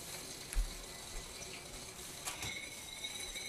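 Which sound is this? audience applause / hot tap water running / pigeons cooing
hot tap water running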